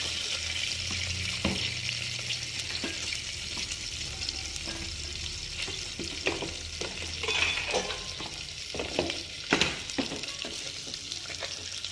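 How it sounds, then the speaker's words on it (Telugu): Sliced onions frying lightly in a pan with green chillies and bay leaf, for coconut milk rice; a soft sizzle runs throughout, with frequent spoon scrapes and clinks and some faint running water, no voices. "ఆనియన్స్ ఇవి వేసుకొని లైట్గా ఫ్రై చేసుకోవాలి"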